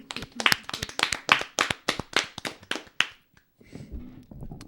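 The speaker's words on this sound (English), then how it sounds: "Round of applause." A small podcast group claps for a newly introduced guest, giving roughly a dozen quick, sharp, close hand claps over about three seconds before they trail off into quieter room noise and a brief murmur.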